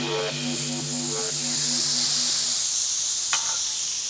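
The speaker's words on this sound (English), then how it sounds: "You want to hear a nice little sizzle." Potatoes frying in oil on a cast iron pan at an outdoor barbecue brunch give a steady, bright sizzle that fills the whole clip, with a few faint voiced tones near the start.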